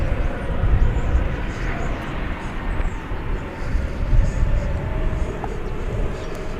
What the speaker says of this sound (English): arriving on this side of the airfield from Minneapolis, St. Paul, the Airbus A220